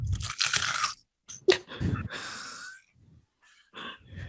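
Mouth-made crunching sound effect, a person imitating a crunch with their voice: several wet, crackly bursts with breathy pauses, close and fairly loud, with no speech over it.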